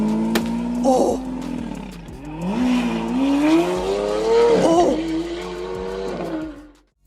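Large supercar engine roaring with squealing tires, rising and falling revs in several loud bursts with sharp skids, close by and ending abruptly.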